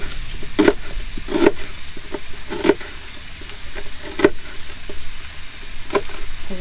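A knife chops an onion into small pieces on a cutting board for chili con carne, giving sharp evenly spaced knocks about once a second, close and clear over quiet room noise.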